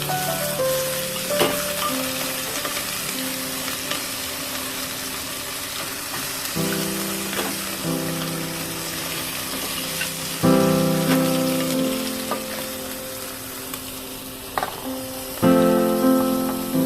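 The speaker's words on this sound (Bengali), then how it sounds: "দুই চা চামচ পরিমাণ আদা কুচি দিয়ে ভালো করে নেড়ে চেড়ে নিতে হবে" Chopped ginger frying for a mutton bone stew, a continuous crackling sizzle broken by repeated clinks and scrapes of a spoon stirring against the pan, close and without speech.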